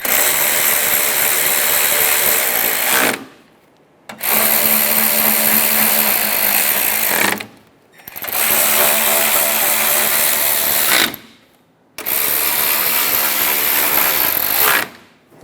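Power tool driving 10mm grille bolts on a Chevrolet Silverado 1500: four loud, buzzing whirring runs of about three seconds each, separated by short silent pauses, close up.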